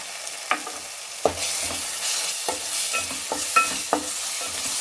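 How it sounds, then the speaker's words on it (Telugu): Onion frying with ginger garlic paste and salt, stirred in a pan for bagara rice: a steady close sizzle broken by several sharp spoon scrapes and clinks against the pan, with no voices. "వేసి మంచిగా కలిపి కరెక్ట్ ఒక 2 మినిట్స్ ఇలానే వదిలేద్దాం."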